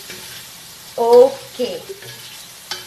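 Aloo gosht being stirred in a frying pan, Punjabi style, gives a soft, steady sizzle and scraping close by, with a brief spoken word partway through.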